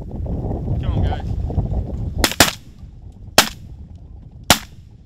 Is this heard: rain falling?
no